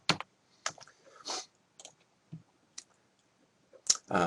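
Someone types on a computer keyboard while editing in Google Docs, producing close, crisp clicks in short irregular clusters with quiet gaps between them.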